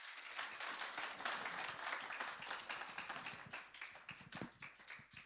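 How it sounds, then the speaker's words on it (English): A conference audience applauds throughout to welcome the host at a fire conference livestream, with dense, steady clapping that stays loud and fairly close. "Shall we welcome her with a round of applause?"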